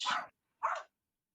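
A dog gives two short, sharp barks about half a second apart, close and clear, followed by silence.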